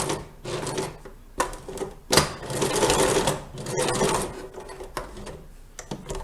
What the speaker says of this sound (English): we're going to stitch down one side and back tack